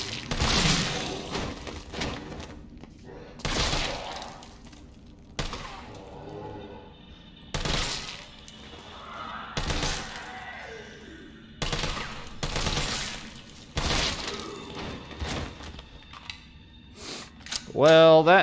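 Gunfire in the Resident Evil 3 Remake video game, sharp shots arriving in separate bursts and single reports spread across the stretch, with quieter mechanical gaps between them.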